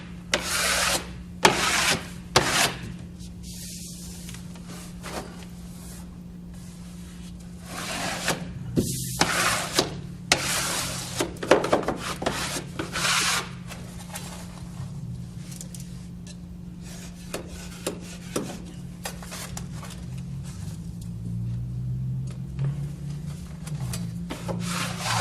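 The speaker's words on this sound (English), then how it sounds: "Work it down with your hand first, then brush it" Wallpaper being hand-pressed and brushed flat against a wall during hanging, heard as repeated dry rubbing and scraping strokes in bursts, close and moderately loud over a steady low hum.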